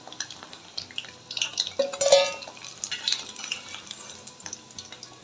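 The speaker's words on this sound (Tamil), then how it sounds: "ஆயிலில் போட்டு கோல்டன் ஃப்ரை ஆனோன்னு நம்ம எடுத்துடலாம்" Cauliflower pieces fry in hot oil for a cauliflower chilli fry, a close bubbling sizzle broken by irregular clinks and scrapes of a utensil against the pan.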